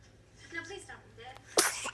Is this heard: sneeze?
yes